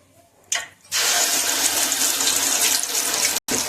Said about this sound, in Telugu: ఆయిల్ కాగిందండి మనం చేసుకునే ముద్దని ఇప్పుడు దించుకుందాం ఇందులోకి